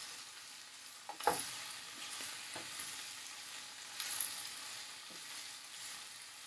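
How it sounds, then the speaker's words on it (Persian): Sliced mushrooms sautéing in a pan for chicken stroganoff, giving a soft, steady sizzle with a few louder stirring scrapes and clatters, heard alone without any talk. "قارچ های اسلایس شده رو اضافه می کنیم. کمی تفت دیدیم."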